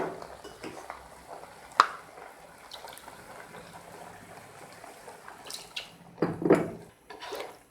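Softened grewia berries are mashed with water in a pot, with faint clinks of a utensil against metal, wet squelching, and a sharper knock near the start, all quiet and sporadic with no talk.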